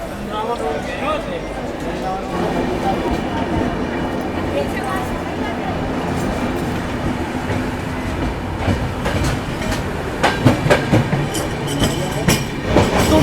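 A long-distance train between Kolkata and Jodhpur, approaching Agra, rumbles steadily with clattering wheels and carriage noise throughout, the rattle growing sharper near the end, with a voice talking over it.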